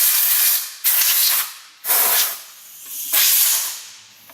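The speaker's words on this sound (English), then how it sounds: "is just blow compressed air" Compressed air blasts in three loud, hissing bursts over a running vacuum pump and its motor, each burst fading before the next.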